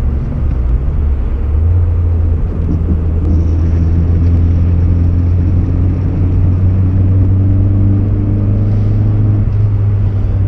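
A 1990 VW Corrado G60 with a supercharged 1.8-litre engine, about 3,000 pounds and 160 horsepower, accelerates steadily, its loud, continuous engine drone climbing gradually in pitch over ten seconds with no one talking.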